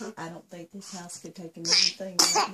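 A person sneezes twice in a home setting, two sharp bursts toward the end, over close conversation between adults.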